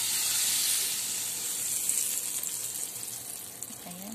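Butter sizzling in a hot pan before pancake batter goes in, a steady bright hiss of frying fat heard up close and alone, running evenly throughout with faint crackles.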